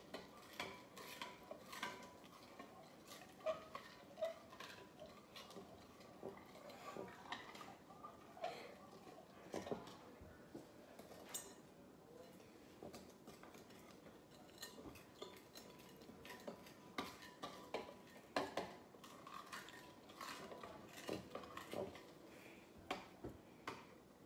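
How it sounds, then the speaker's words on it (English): Spoon stirring a pink banana pudding mixture in a bowl, making steady clinking and scraping against the bowl with soft wet swishes, close and continuous over the whole stretch with no talking. "Make sure you get all the white chunks out and you mix it till it's just a runny liquid."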